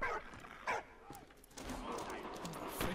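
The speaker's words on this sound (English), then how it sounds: "That dog is barking at." Dog barks in the video game Valiant Hearts, a few sharp yips spaced over the first second, then fainter whimper-like sounds under a busier game background with music or ambience.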